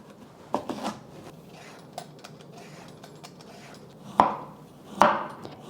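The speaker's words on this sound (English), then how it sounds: "going to start off by cutting up all of my vegetables" A knife chops through a jumbo carrot on a cutting board, giving a few sharp, close thuds spaced irregularly with quiet gaps between them.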